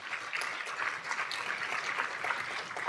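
An audience at a Capitol Hill luncheon on ultra-processed foods and health applauds, a soft, distant, steady patter of clapping lasting about three seconds without pause.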